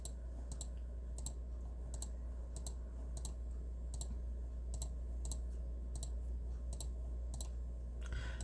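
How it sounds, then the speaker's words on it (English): Computer mouse clicks in a steady series, about a dozen sharp, evenly spaced taps over a low constant hum, fairly quiet, with no talking. "I don't want to sit here clicking each one"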